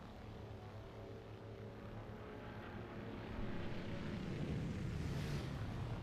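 A bomber aircraft's propeller engines in the video game War Thunder drone faintly and steadily, growing slightly louder and rougher halfway through, with no speech.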